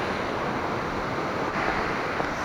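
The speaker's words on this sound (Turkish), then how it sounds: "Şelaleyi yakından da göstermiş oldum." Close-up roar of the Suuçtu waterfall near Bursa, reached over rocks on a cycling trip: a steady, dense broadband rush of falling water, loud and unbroken throughout, with wind buffeting the microphone.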